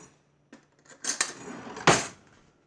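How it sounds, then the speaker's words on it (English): A spoon is picked up from among other cutlery, with a brief metallic clatter and a couple of light clinks close by, then quiet. "So I'm going to grab a spoon."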